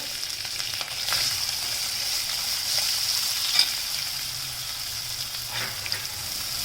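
Chopped onions frying in a pan with cumin seeds and turmeric give a steady, close sizzle, broken by occasional soft scrapes and taps of stirring.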